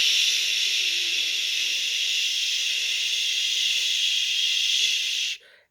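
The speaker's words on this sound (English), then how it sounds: "So I'm going to steam it." A steam iron held about an inch above a fabric quilt block releases a steady, loud, close hiss of steam for several seconds, then cuts off abruptly.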